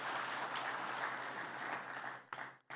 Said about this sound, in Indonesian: Tepuk tangan buat kemuliaan nama Tuhan